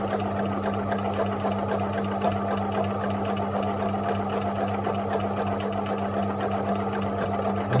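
A sewing machine stitches free-motion embroidery, filling in a design with a continuous, even whir and rapid needle chatter that runs unbroken at close range.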